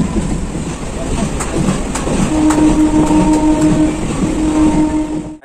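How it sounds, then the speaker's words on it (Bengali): A local train pulling out of Haripal station, heard loud and close from inside near the open door, with a continuous rumbling roar, rhythmic wheel clatter and a sustained high squeal from the rails. "হরিপাল ছেড়ে ট্রেনটা বেরোচ্ছে"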